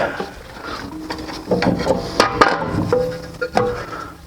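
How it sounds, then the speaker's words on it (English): Brake rotor being pulled off a Mercedes C300 4matic, giving a series of sharp metallic knocks and scraping clunks, close and fairly loud, with several distinct hits around the middle of the stretch. "We'll go ahead and take the rotor off."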